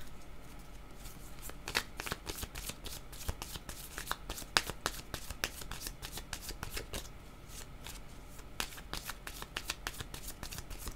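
Tarot cards shuffled by hand during a reading, a dense, steady stream of crisp riffling clicks and flicks close to the microphone, with no voices over it.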